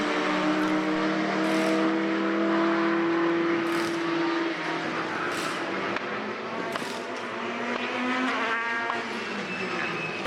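Race cars at the Mondello circuit in a BOSS race howl past continuously, several engines overlapping with rising and falling revs as cars pass at close range, loud and unbroken with no talk over it.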